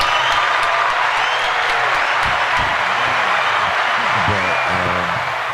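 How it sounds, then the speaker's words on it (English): An audience breaks into steady clapping for a guest at a podcast-style gathering, a dense continuous wash of hands with faint voices and a whoop underneath. "Everybody give Barbie a hand clap."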